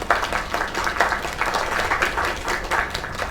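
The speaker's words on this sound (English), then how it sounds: "Another round of applause." Crowd applause in a video game, a steady wash of clapping lasting a few seconds with no talk over it.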